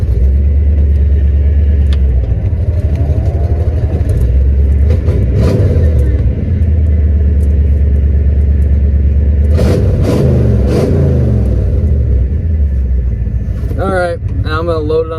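A Mustang driven at full throttle, its engine roaring loud and steady as it revs and accelerates, with a low rumble throughout and people talking over it.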